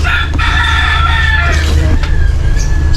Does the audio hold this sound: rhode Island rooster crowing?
yes